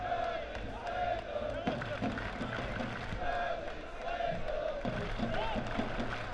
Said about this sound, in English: You hear the crowd chanting Charlie Stagel.